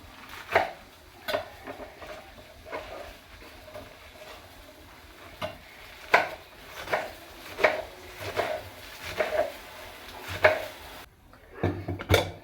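Garlic and green chillies are chopped with a knife, a series of sharp, close taps and knocks recurring roughly every second over a faint kitchen background hum.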